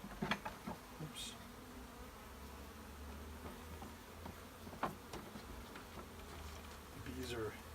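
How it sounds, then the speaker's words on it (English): Agitated honeybees buzz steadily around the listener during a hive inspection, a low droning hum with many bees in the air and individual insects zipping close by now and then. "The bees are slightly agitated. A lot of bees in the air."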